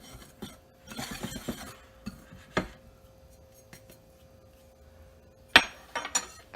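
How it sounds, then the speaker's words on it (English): A spoon stirs yeast and salt together in a bowl while making Italian bread, giving scattered light clinks and scrapes, with a busier cluster early on and a sharper knock near the end; no one speaks. "And we'll stir that all up."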